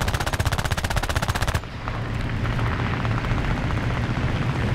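Rapid, loud machine-gun fire from a Nimrod Mk II biplane in a War Thunder air arcade battle rattles in a steady stream for about a second and a half, then stops, leaving the droning aircraft engine alone.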